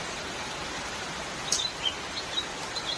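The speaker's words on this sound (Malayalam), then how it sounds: "ഈ കിളികളുടെ സൗണ്ട് തന്നെ മെയിൻ." Small birds chirp in short, faint, scattered calls against a steady hiss of rain falling on a tiled roof, with a few brief tweets standing out over the wash.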